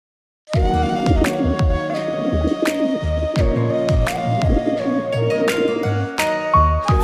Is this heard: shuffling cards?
no